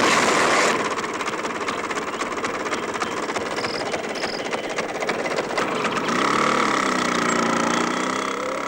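A scooter engine idling with a steady mid-pitched drone, close and fairly loud, rising slightly toward the end, alone without talk.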